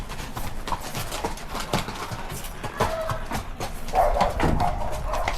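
Hooves clip-clop at an irregular pace beneath a rider on a horse named Tequila in Mexico's Tequila country, with faint birds and outdoor noise around.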